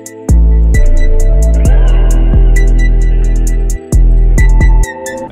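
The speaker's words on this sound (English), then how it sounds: "I added the 808, just coming up with a simple bounce with some sliding notes and some pauses right here" A loud, booming 808 bass in an FL Studio trap beat plays a simple bouncing pattern with pitch-sliding notes and brief pauses, with crisp hi-hat ticks running above it.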